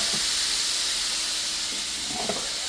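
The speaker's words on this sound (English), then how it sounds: "Give that a quick little stir." Food sizzles in olive oil during a quick stir, giving a loud, dense, hissing sizzle throughout with faint scraping underneath.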